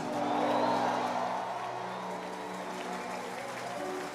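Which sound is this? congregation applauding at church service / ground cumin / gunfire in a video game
congregation applauding at church service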